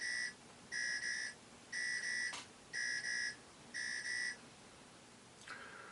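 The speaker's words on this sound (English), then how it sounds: "that sounds almost like one of those big factory alarm things" A Commodore PET computer-generated buzzing alarm sounds in five evenly spaced electronic blasts, harsh and nasal like a factory siren, followed by a short click and a faint tone.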